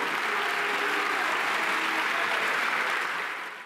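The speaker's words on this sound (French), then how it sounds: "une partie de l'Assemblée s'est levée pour applaudir la colère de Yael Braun-Pivet" National Assembly members applauding in the chamber, a dense, steady wash of many hands clapping that holds evenly, then tapers off at the end.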